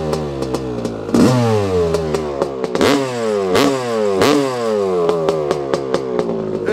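A freshly restored 1983 Honda CR250R two-stroke dirt bike revs loudly and alone, its engine repeatedly blipping up to a high scream and dropping back, with crisp cracking pops between the rising and falling revs.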